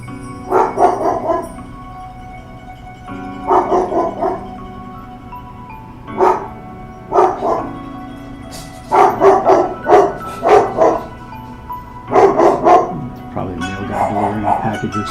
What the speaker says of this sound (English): My dogs are barking at nothing as usual.